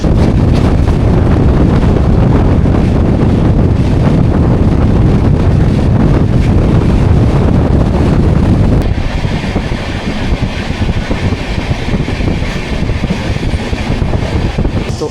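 Darjeeling Mail passenger train running from Kolkata toward Darjeeling, with a loud continuous rumble and rushing wind noise that grows quieter and thinner about halfway through, steady with no voices.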